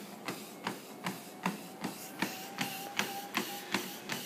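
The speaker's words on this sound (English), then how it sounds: "because the treadmill's moving, it's moving slow" A slow-moving treadmill belt produces a quiet, steady series of rhythmic thumps and whirring, about two pulses per second, with no voices.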